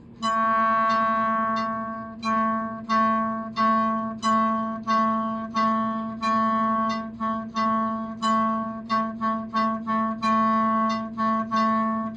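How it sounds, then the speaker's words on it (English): A clarinet repeats low B, tongued in steady even pulses with a metronome, each attack crisp and close, with no voices. "So take a low B and just tongue each note with your metronome."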